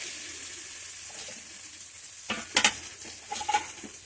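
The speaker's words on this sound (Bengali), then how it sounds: "এবার মশলাটা খুব ভালো করে কষাবো" Spice paste sautés quietly in oil in a pan. A low, soft sizzle runs throughout, broken partway through by a few sharp scrapes and clatters of a spoon stirring against the pan.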